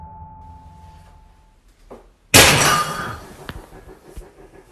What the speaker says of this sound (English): the sound was one of her plants falling down.